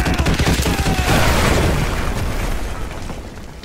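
Artillery shells slam down danger close in MW2 Remastered, a rapid run of loud, heavy booms and crackling blasts that roll together into a sustained rumble before easing off slightly.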